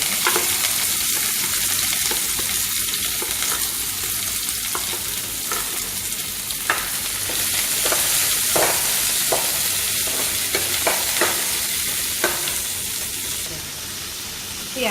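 Onions with curry leaves sizzle in a pan for prawn curry, a steady loud frying hiss broken by repeated stirring scrapes, with talk over the sizzle for part of the time.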